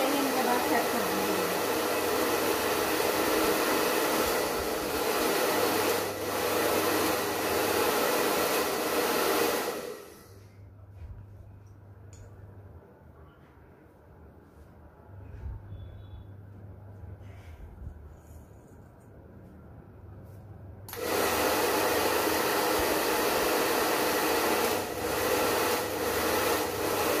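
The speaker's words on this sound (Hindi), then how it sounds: "अभी आप देखो मैं हल्के से ड्रायर से ही इनके बाल सेट कर दूँगी।" A hair dryer is used to dry and set a customer's hair in a salon. A steady, loud whoosh runs for about ten seconds, pauses during quieter handling sounds, then resumes.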